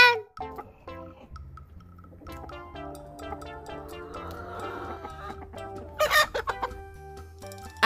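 A hen clucks in short, repeated bursts over light background music, with a brief crow-like call near the end.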